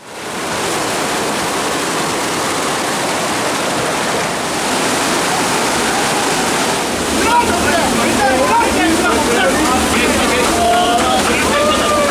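Strong, heavy water rushing through Olukbaşı canyon, a dense, steady roar that fills the whole clip at close range, with a few brief higher splashing tones near the end.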